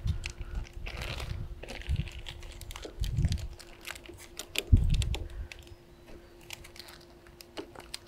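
Sharp ratcheting clicks from turning the rear shock preload adjuster on a Honda Rebel 1100, scattered short taps and snaps with some low handling thumps, close and isolated without talk.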